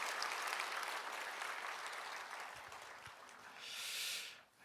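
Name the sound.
congregation applause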